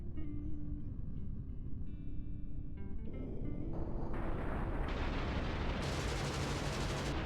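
Rapid, sustained cannon and machine-gun fire from a Hawker Typhoon Mk.Ib in a flight game, a dense, loud, continuous roar of gunfire that swells and brightens as it goes on, with no voices.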